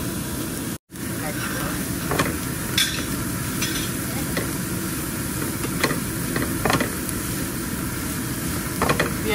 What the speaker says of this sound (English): stir the onions and green chilies and garlic